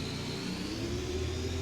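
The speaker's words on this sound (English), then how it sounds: "Raise the revs." Red Bull RB20 F1 car engine in Assetto Corsa, a steady buzzing whir climbing slowly in pitch as the revs rise, continuous and moderately loud, with no talking.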